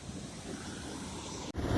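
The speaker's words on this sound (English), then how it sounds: "as soon as the water hits those, it crests and it turns into this huge, awesome surf" Ocean surf breaks on rocks below coastal cliffs near Alamere Falls in California, a continuous roaring wash mixed with gusty wind buffeting the microphone, broken by a brief cut near the end before resuming louder.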